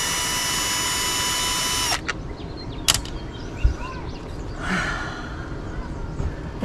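A power drill backs screws out of a shop vacuum during a repair. A steady, loud whine runs for about two seconds, followed by a few short, sharp bursts and quieter handling noise.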